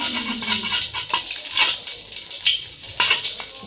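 Ghee sizzling loudly in a pan for okra (bhindi), a steady close crackle with brief spattering bursts and faint stirring scrapes, with no talking.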